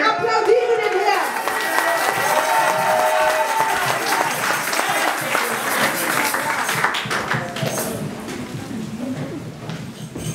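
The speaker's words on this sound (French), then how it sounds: "Applaudiere den Herrn." A church congregation at a revival service claps in praise, a broad ongoing roar of hands mixed with crowd voices and a few higher calls, sustained at even loudness throughout.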